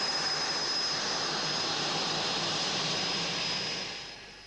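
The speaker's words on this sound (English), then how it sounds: "As Jim taxis out" A test aircraft taxiing out gives a steady, loud jet engine roar that holds constant with a thin high whine, then eases off slightly toward the end, with no voices.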